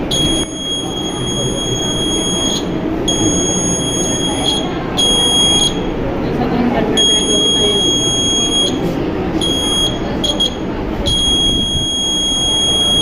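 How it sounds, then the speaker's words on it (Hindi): A shrill electronic rain sensor alarm buzzer sounds in repeated long bursts with short gaps, loud and piercing over a low background hum. "बारिश की बूंदें उस पर पड़ेंगी तो अलार्म बजने लगेगा"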